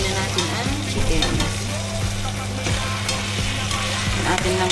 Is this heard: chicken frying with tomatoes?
yes